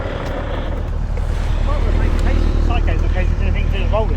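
A motorcycle engine with a worrying rumble from up front drones steadily and loudly at close range, a dense low throb filling the whole stretch with no break.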